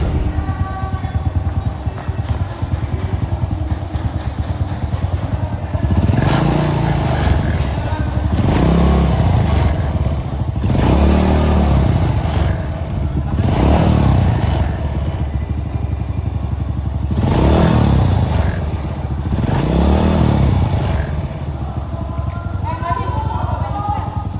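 A Honda Supra motorcycle engine runs nearby with a steady idle after carburetor tuning, and several times it is revved up and eased back down in repeated swells.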